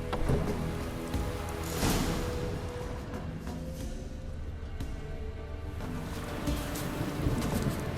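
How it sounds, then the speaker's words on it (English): Steady heavy rain in the video game The Witcher 3: Wild Hunt pours down in a dense hiss, with low rumbles and a few louder gusts of downpour. "Proper downpour this is."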